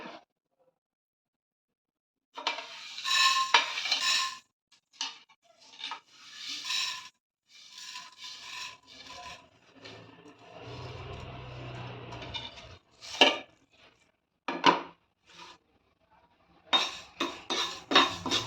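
Fenugreek seeds roasting in a pan are stirred with a metal spoon, giving intermittent scraping and clinking strokes in short bursts separated by brief pauses, close and fairly clear.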